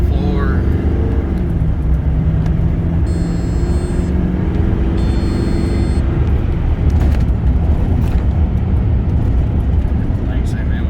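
L5P Duramax diesel truck engine held at full throttle after a turbo actuator replacement, a loud sustained roar with a rising whine throughout.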